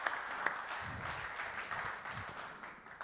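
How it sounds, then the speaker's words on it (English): A conference audience applauding for a presenter, moderate clapping that is fairly distant and slowly tapers off. "Big round of applause for Justin."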